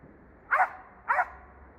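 An Elkhound dog barks twice out in a thicket while hunting squirrels, two sharp, evenly spaced woofs about half a second apart, fairly distinct against quiet outdoor background.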